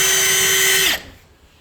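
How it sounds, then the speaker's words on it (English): Power drill driving a metal drill bit, a loud steady high whine that spins down and stops abruptly just under a second in, leaving quiet. "the first drill bit is still running"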